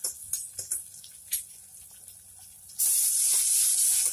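Ginger-garlic paste goes into light-brown frying onions for a mutton paya dish. A few scattered pops lead into a sudden, loud, sustained hiss that stays close and steady.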